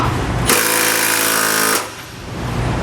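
A power tool tightens trailer hitch bolts on a 2014 Ford Edge, one loud harsh rattling burst of just over a second, close by, with no talking.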